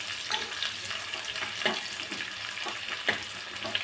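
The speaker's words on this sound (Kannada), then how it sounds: "ಶೇಂಗಾ ಕಾಳು ಈ ಥರ ಆದಮೇಲೆ ಒಂದು ಮೆಣಸಿನ್ಕಾಯಿ, ಕರಿಬೇವು ಹಾಕ್ಕೋಬೇಕು, ಈರುಳ್ಳಿ ಹಾಕ್ಕೋಬೇಕು, ಚೆನ್ನಾಗಿ ಫ್ರೈ ಆಗ್ಬೇಕದು." Peanuts, chili, curry leaves and onion fry in oil, a soft, steady sizzle with light crackles and occasional stirring scrapes, fairly faint and without talk.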